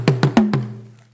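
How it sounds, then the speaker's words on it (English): Four loud, evenly spaced drum strikes from Ashanti Tumpine talking drums, each a sharp attack ringing into a low, sustained tone that fades slowly after the last hit. "The sound you just heard is from the Tumpine drums, meant to summon our Ashanti men for battle."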